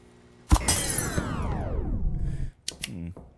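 Glass shatters loudly after a thrown ball hits it in a forest horror video game, a sharp crash trailing into a long ringing decay, followed by a few brief clicks and a short electrical power-cut tone.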